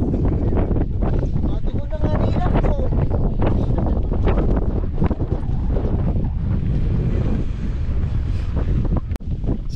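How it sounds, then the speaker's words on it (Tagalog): Strong wind batters the microphone on the summit of Mount Mantalingahan in Palawan, a continuous heavy buffeting roar in gusts, with voices speaking intermittently underneath. "Tapos ang hangin dito, grabe."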